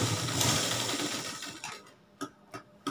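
A sewing machine stitches a galla patti collar with a close, steady mechanical whir that stops, followed by a few isolated clicks and taps.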